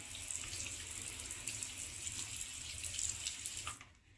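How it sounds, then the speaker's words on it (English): Water drains steadily out of a red maple bonsai pot after watering, a close, continuous trickle and splash that stops abruptly near the end. "you can kind of tell when you've watered it enough, as that water leaking out might run a bit clearer."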